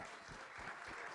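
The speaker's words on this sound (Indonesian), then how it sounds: "kita berikan tepuk tangan dulu untuk Pendeta Albert Lintang" A congregation at a Sunday worship service claps for Pastor Albert Lintang, a dense, steady burst of many hands applauding together.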